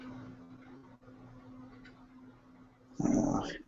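During a tabletop roleplay, a person imitates an animal growl with their voice: a short, loud, rough snarl bursts out near the end after a quiet stretch with a faint steady hum.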